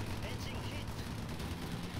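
Continuous rattling machine-gun fire from World War II planes in the Pacific air-combat video game Sid Meier's Ace Patrol: Pacific Skies, a steady fast burst held at a moderate level with a voice mixed in.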